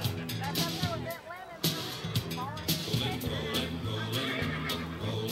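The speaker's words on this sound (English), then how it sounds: "They have made a ram truckload of money on this buckskin horse." A buckskin bucking horse at the Gladewater Roundup Rodeo in Texas gives several shrill whinnies and neighs amid busy arena noise and some talk.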